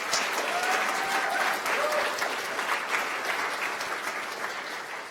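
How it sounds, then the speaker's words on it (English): An audience gives a round of applause for Cynthia Wesley Eskimunk at a formal announcement, steady moderate clapping that fades slightly toward the end, with a faint voice briefly audible. "Let's give her another round of applause"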